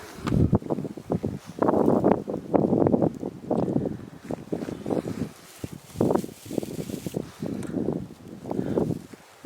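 Wind gusts outdoors in rough, blustery bursts that buffet the microphone, rising and falling over several seconds, loud and close.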